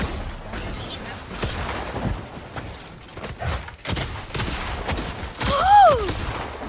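Gunfire in a fast shooter video game: rapid bursts of shots and thuds mixed with game effects and a sweeping tone, with a voice talking over the action.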